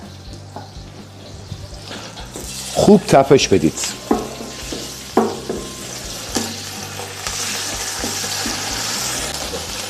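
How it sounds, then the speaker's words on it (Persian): Tomato paste sizzles and fries in a hot pan while a utensil stirs and scrapes, with a few sharp clinks; a voice speaks briefly. "تو همون تابه ای که گوجه ها رو سرخ کردیم یه قاشق پر رب بریزید"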